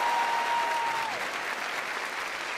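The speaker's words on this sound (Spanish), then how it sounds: "Pero aplausos, hombre, aplausos." Studio audience applause at a comedy talk show's 14th-anniversary taping, a steady wash of clapping that holds at an even level throughout with no talk over it.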